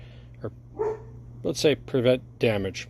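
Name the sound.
dog barking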